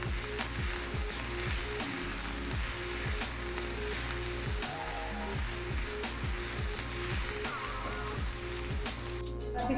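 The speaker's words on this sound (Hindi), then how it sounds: "यहाँ पे प्याज को ऑयल के अंदर फ्राई होते 1 मिनट हो गया है।" Onion and garlic paste sizzles steadily in hot oil in a pan, a dense continuous crackle with faint clicks and scrapes running underneath throughout, no voices.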